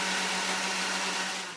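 A blender runs steadily, whizzing a sauce of hot sauce and a pinch of salt with a constant whirring hum that fades slightly at the end.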